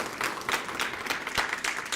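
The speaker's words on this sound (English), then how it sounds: "Keep that round of applause going for our MC," Sustained audience applause at a Multi-Cultural Heritage Alliance event, a crowd clapping in a fairly even, dense wash with slight swells, loud and close, without clear speech over it.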